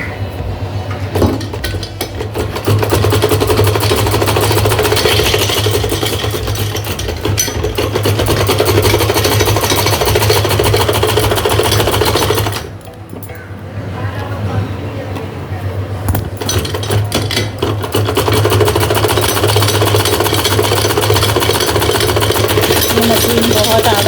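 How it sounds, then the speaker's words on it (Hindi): A sewing machine stitching salwar fabric runs with a loud, steady mechanical whir and rattle, briefly stopping partway through before resuming, with no talk heard. "मशीन बहुत आवाज़ कर रही है"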